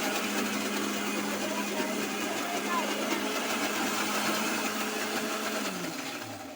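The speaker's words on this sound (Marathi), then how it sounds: "अशा पद्धतीने आपण ते मिक्सरमधून करून घेऊया" Electric mixer grinder running steadily while blending homemade juice, a dense continuous whirring drone with a motor hum that winds down near the end.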